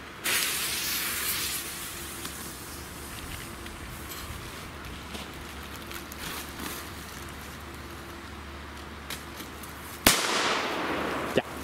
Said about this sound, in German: Und zwar die Cobra 3 Black Powder 4.